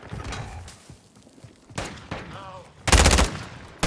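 Gunfire in a multiplayer shooter video game, scattered single shots and then a loud, dense burst of rapid automatic fire near the end, with other game noises and a brief voice in the background.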